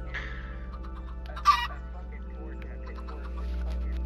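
Minecraft chickens cluck repeatedly in a game, short clucking calls spaced across the moment, with one louder burst standing out over a steady low background hum.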